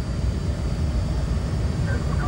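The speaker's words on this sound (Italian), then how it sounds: "Spengo i motori, signore." Airliner jet engines winding down on the runway after a hard landing, a dense steady roar of broadband engine and cabin noise that fills the whole stretch without pause.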